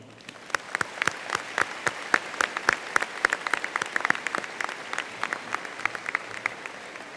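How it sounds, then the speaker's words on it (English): High school graduation crowd giving teachers a round of applause, with sharp, distinct individual claps standing out over a thinner bed of clapping, fairly close and sustained throughout. "let's show our appreciation for all our teachers with a round of applause"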